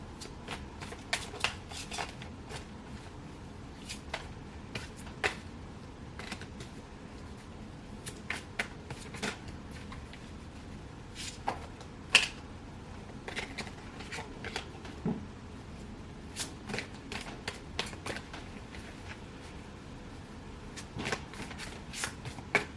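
Tarot cards are shuffled close by in quiet, repeated riffles and flicks, with scattered sharp card snaps over a soft, steady background.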